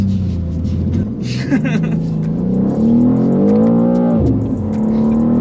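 BMW M2 sliding through a drive, the engine rumbling and revving with pitch rising and dipping as it accelerates and eases off, loud and close-up, with voices speaking over it.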